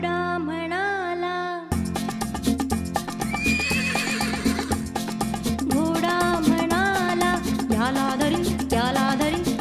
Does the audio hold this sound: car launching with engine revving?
no